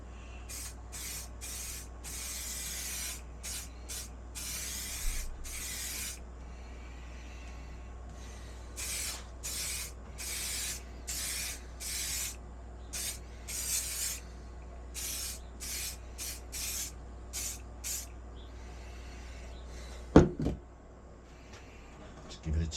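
Bursts of spray lacquer coat a cane fishing rod, each short hissing burst repeated in an uneven rhythm over steady low background hum, close by, with a sharp knock near the end.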